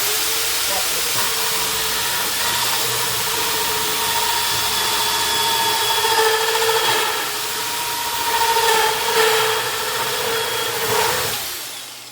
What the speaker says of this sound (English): The reason I angle it is so the plastic doesn't get stuck in the drill bit.